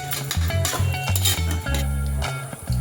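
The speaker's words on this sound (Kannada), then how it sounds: "ಎಲ್ಲನ ಮಿಕ್ಸ್ ಮಾಡಿಕೊಂಡು ಚೆನ್ನಾಗಿ ಮಿಶ್ರಣ ಮಾಡಿಕೊಂಡು ಒಂದೆರಡು ನಿಮಿಷ ಆಗೋವರೆಗೂ ಎಣ್ಣೆನಲ್ಲೇ ಹುರ್ಕೊಳ್ಬೇಕು" Green chilli chicken being stirred and fried in oil in a pan, with a spoon scraping and clinking against the metal in steady, close strokes over a low background hum.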